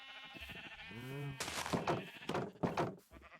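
A Minecraft sheep on a sheep farm gives a clear, wavering bleat, followed by a brief lower thunk and more game noise; the sound is close and moderately loud with no talking.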